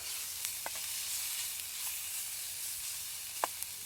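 Pasta and onions cook in a pan over the flame of an IKEA camping stove, producing a soft, even sizzle and hiss with a few faint clicks and pops, heard close and alone without talk.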